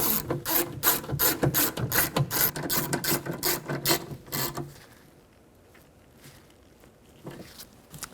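A ratchet snugs down bolts on a 2009-2017 Chevy Traverse door during a power window regulator replacement, clicking rapidly and steadily up close for about four seconds before going quiet.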